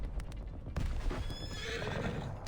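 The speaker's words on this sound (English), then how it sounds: "The horse gives a long, glad whining and turns" In the video game Reverse: 1999, a horse gives a long, glad whinny, with hoof clops around it. The call is fairly faint but clear, and no one speaks.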